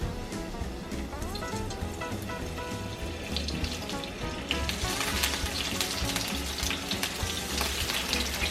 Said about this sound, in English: We're going to make the French fries. We're going to put some olive oil.